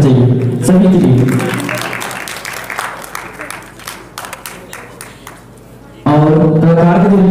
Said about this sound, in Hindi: जोरदार ताली होनी चाहिए सभी के लिए।